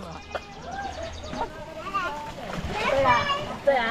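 Water from a faucet splashes steadily and grows louder and fuller toward the end, with people, including a child, talking over it.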